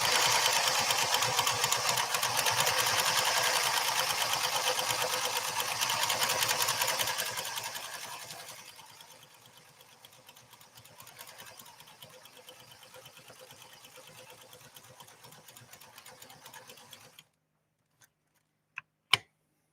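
A PFAFF 360 sewing machine stitches in a fast, even whir that runs strongly for several seconds, drops to a softer, slower run, then stops, followed by a couple of small clicks.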